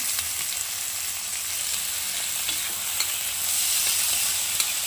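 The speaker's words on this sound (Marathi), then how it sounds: "तो पण चांगला आपण परतून घेऊया तेलामध्ये भाज्यांबरोबर." Finely chopped tomato sautés in hot oil with vegetables for a quick breakfast dish, giving a continuous close sizzle and crackle with small stirring sounds and no talk.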